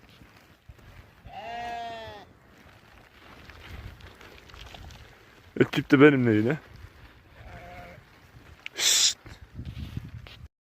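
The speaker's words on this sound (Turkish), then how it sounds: "Şimdi kuzular çok sabırsız." Lambs bleat in a few separate calls, one long quavering cry and another rising call, with someone speaking briefly between them.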